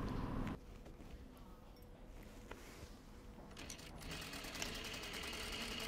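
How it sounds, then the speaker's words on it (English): A sewing machine stitches the back pieces of a coat in short runs, a faint rattling hum with a brief burst at the start and a steadier stretch toward the end. "I'm stitching the first detail at the back."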